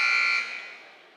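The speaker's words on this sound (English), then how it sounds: "He made it as the buzzer was blowing." At a high school basketball game, a loud electronic buzzer sounds as one steady tone that fades away over about a second, heard on its own.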